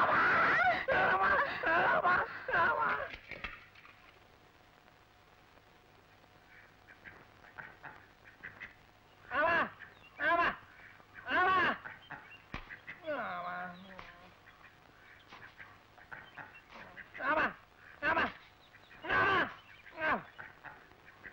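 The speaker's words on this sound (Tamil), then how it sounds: "கும்படுறனுங்க அது வாத்துங்க." Ducks quack in repeated loud bursts, following a stretch of talking at the start, in a scene from a Tamil film.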